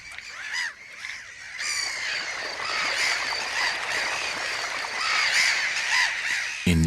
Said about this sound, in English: In the end, the intruder is enervated by the gull's screams